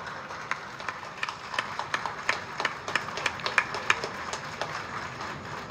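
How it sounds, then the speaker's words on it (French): An audience applauds a new customs director general with sparse, individual claps that pick up a little before tapering, fairly faint and spread out rather than a full roar. "Vos applaudissements, s'il vous plaît, pour M. Rambler."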